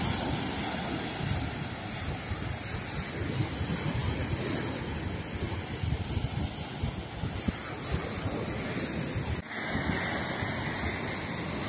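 Sea waves wash onto the wide beach at Loo in a steady, moderate surf hiss with wind buffeting the microphone, continuous throughout and with no talking.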